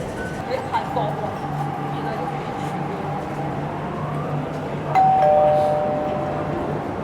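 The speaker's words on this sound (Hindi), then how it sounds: "और ये हमारी कैनेडी टाउन की मेट्रो आ गई है।" A Hong Kong MTR metro train pulls into the Kennedy Town platform with a steady rumble, and a clear two-tone electronic chime rings out near the end over the station noise.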